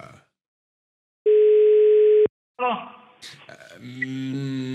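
A telephone dial tone sounds once as a steady, loud, unbroken tone lasting about a second while a call is placed, followed by clicks and then voices talking.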